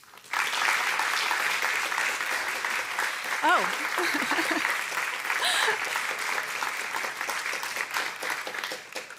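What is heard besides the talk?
applause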